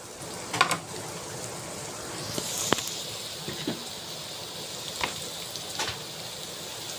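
Onions sautéing in a hot pan for chicken adobo, a steady soft crackling sizzle with a few sharper pops and stirring scrapes, heard fairly close with no talking.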